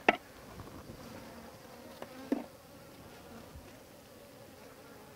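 A swarm of bees hums faintly in a Kenya top bar catcher box, a low, steady buzz with a couple of soft knocks.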